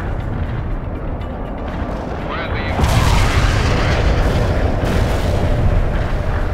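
Heavy artillery barrage in the World in Conflict strategy game, a dense rolling rumble of blasts that swells around the third second and stays loud and continuous, with some voice-like sounds mixed in.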